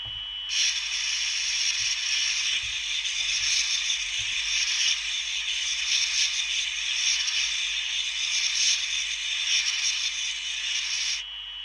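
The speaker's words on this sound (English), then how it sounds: "And that noise is the jet wash and wipers going" Train windscreen jet wash spraying with wipers running, a steady bright hissing wash that starts abruptly, holds for about eleven seconds with faint scraping pulses underneath, then cuts off, with no voices.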